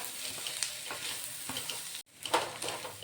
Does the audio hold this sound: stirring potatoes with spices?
yes